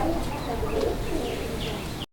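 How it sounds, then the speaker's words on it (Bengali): A male Kormona pigeon coos actively, repeating soft throaty calls close by over a busy background of other pigeons and chirping birds in a loft. "কর্মনা কবুতর একটা নর প্রচুর পরিমাণে অ্যাক্টিভ আর ভরপুর ডাকের একটা নর"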